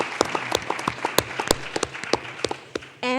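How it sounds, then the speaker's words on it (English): An audience applauds Conrad Harper at a Debevoise & Plimpton lecture series event with sparse, uneven claps close by, each one distinct rather than a dense roar. A brief tonal sound closes the passage. "Can we give him a round of applause as well?"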